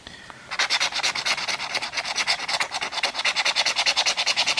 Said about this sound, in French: Oh, ça va vite à gratter.